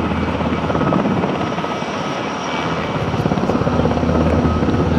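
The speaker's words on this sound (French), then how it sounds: "dès lors que ces hélicoptères vont décoller, c'est-à-dire maintenant" Loud, continuous military helicopter rotor thump and engine roar at an air-assault demonstration at the 2014 Le Luc air show, close by and steady, with no voices.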